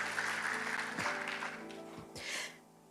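A church congregation claps together in steady, dense applause that swells and then fades toward the end, heard without speech over it.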